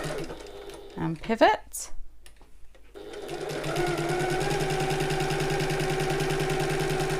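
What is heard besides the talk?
sewing machine back stitching shoulder bag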